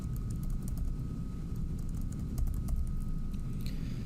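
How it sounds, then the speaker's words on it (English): Someone types on a computer keyboard in a steady run of soft clicks. The keystrokes sit fairly close over a low background hum, and no one speaks. "let me type this out again"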